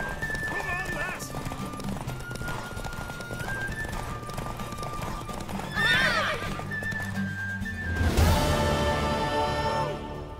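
A horse in The Witcher 3 gallops with rapid clip-clop hoofbeats and gives loud whinnies, with a voice talking over the action.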